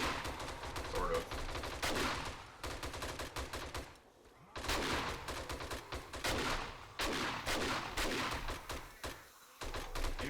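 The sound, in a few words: shotgun fire in the video game 7 Days to Die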